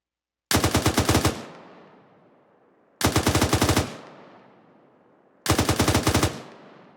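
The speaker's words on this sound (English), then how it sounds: "you'll go to rapid, which comes out to be about 200 rounds per minute" Automatic weapon firing at a rapid rate of about 200 rounds per minute: three loud, close bursts of roughly eight shots each, separated by short pauses, with echoing decay after each burst.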